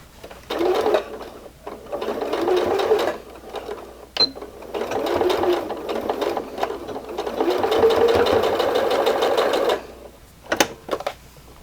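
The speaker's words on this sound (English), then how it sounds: "I'm going to start by making sure that I sew down this curved line and make sure that any of the serge is tucked in" A sewing machine runs in long steady stitching bursts along a curved seam on a handwoven baby carrier, pausing briefly between runs, with a few light clicks and knocks near the end.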